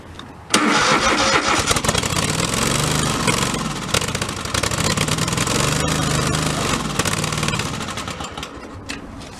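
A Scag STHM-22CV commercial hydrostatic mower engine, jump-started on ether with a weak battery, catches abruptly and roars into a loud, steady mid-pitched run. It stays close and alone for several seconds.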